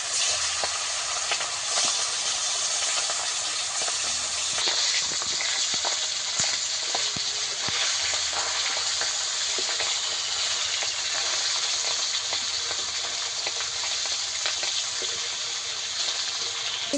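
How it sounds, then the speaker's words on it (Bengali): Hilsa fish pieces fry in hot oil with a steady, bright sizzle that crackles evenly and close up throughout, with a few sharper pops along the way. "বাকি মাছগুলো ভেজে নেবো।"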